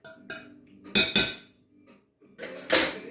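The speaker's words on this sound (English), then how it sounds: "Give it another little stir. And then I'm going to switch to a spoon at this point." Spoon stirring a thick sweet potato bar mixture in a bowl, with a series of sharp clinks and scraping knocks against the dish in irregular bursts, close and alone.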